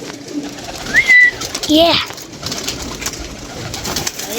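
Pigeons kept by a fancier give a short coo and a rising call amid a noisy outdoor yard, with a voice briefly heard speaking over them.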